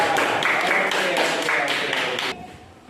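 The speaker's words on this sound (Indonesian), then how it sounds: "Tepuk tangan." A classroom of students claps together in quick rhythmic bursts, the loud group applause cutting off abruptly near the end.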